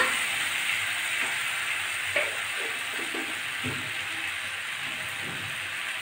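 Potatoes sautéing with spices in a pan for vegetarian aloo dum give a steady, close sizzle, broken by a few soft scrapes and knocks of stirring, with no talking.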